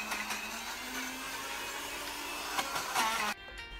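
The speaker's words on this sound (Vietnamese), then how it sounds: "mình hơi lười nên là cho vào máy xay" An electric blender grinds ingredients for a field-rat meat dish with a loud, steady whirring drone that runs continuously, then cuts off abruptly near the end, with no talking.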